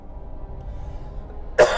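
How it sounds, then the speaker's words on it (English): A single sharp cough bursts out near the end of a stretch of quiet low hum, close and loud, from someone playing a video game. "Apologize for the coughing."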